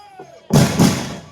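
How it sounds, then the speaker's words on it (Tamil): Firecrackers set off during a celebration go off as a sharp, loud double burst after a moment of quiet, crackling and echoing briefly before fading. "இந்த வெடியை எப்பதான்டா நிப்பாட்டுவீங்க?"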